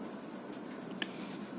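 A marker or chalk writes the letter T on a classroom board in a biology lesson, a short, faint stroke sound heard alone over quiet room tone.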